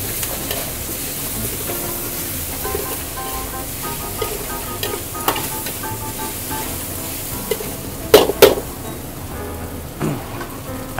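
Doubanjiang chili bean paste sizzles and fries in a pan, a steady crackling hiss broken by a few sharp clicks and scrapes as it is stirred.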